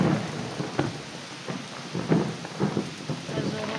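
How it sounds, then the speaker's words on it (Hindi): Heavy rain pours down with a hissing wash, while soft thunder-like thumps and rumbles rise and fall beneath it. "ये देखिए कितना जोरों का बारिश हो रहा है हमारे यहाँ"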